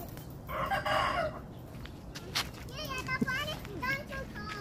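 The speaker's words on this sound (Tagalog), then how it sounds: "Chickens out there." Chickens outside in a backyard, with a rooster crowing and hens clucking at moderate distance, heard beneath children's voices and nearby chatter.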